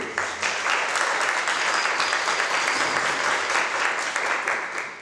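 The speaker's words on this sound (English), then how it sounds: "let's get a round of applause, please" Steady audience applause at an arts interview event fills the room at an even, dense level from start to finish, with no voices standing out.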